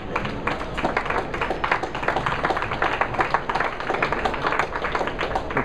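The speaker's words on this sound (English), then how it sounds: "Appreciative round of applause from a lot of people sticking around on a Sunday" Audience at a bowling tournament final clapping in sustained appreciative applause, a dense, even patter of many hands carrying on for several seconds, fairly loud and close with no talk over it.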